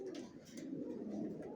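Racer pigeons in a loft give soft, low, throaty coos close by, a quiet rolling murmur with a few faint flutters above it.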